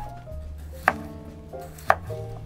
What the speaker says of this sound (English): let's cut them into about half inch thick slices